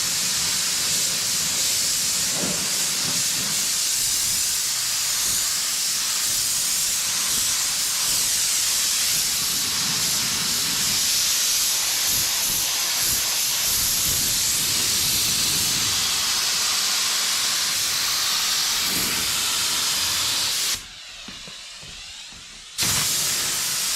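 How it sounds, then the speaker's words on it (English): Compressed air hisses in long, loud blasts as dust is blown off a Chevy OBS truck body before painting, continuous for most of the stretch, then cut by a brief pause and a final burst. "We'll give it a little blow, get a little bit of air on it,"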